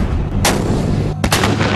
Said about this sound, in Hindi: वहां ये artillery weapon systems indirect firing द्वारा लंबी दूरी तक जमीनी हमला कर सकते हैं।